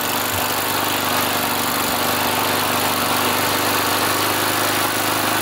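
A vintage small engine with a carburetor runs steadily close by, a continuous loud buzzing drone with no breaks or talking.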